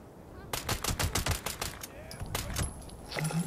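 Automatic weapon fire from a Fallout 76 video game, a rapid string of about a dozen sharp shots in steady rhythm, fairly loud, with a brief pause and then a few more bursts.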